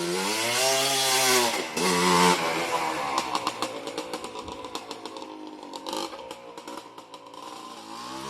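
A freshly rebuilt Yamaha Blaster two-stroke ATV engine revs loudly up close, then settles into a rapid, crackling pulsing rhythm as it runs on.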